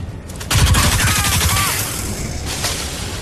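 Gunfire from a low-recoil gun in Crysis 3 bursts loud and close, rapid repeated shots over about two seconds, then a brief later burst.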